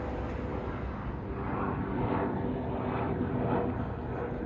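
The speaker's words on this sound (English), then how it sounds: "Noisy helicopter." A helicopter passes overhead, a steady, moderately distant rumbling drone with a faint rhythmic rotor pulse.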